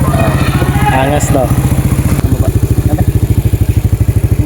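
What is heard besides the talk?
motorcycle engine running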